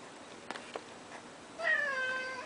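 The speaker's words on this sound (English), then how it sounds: "that was my cat" A pet cat lets out a single drawn-out meow near the end, after a few faint taps and thumps in an otherwise quiet room.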